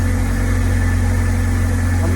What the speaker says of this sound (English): Okay, so got it idling.